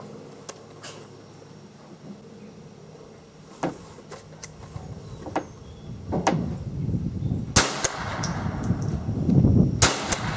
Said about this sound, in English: Shooting a little high.